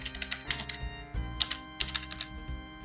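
Fingers type text on a computer keyboard in quick, irregular bursts of close, crisp key clicks, with a short pause between runs.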